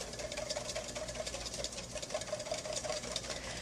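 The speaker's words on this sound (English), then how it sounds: "I'm going to whisk them up" Egg yolks are whisked briskly in a bowl for ice cream custard, making a fast, even rhythm of light tapping and swishing strokes that stays fairly quiet and close.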